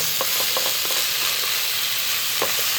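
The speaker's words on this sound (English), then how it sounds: "we're gonna stir this up a little bit" Eggs fry with fish sauce in a hot pan, a constant loud sizzle and hiss with several quick scraping knocks from stirring, close up and with no voices.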